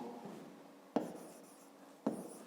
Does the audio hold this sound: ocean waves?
no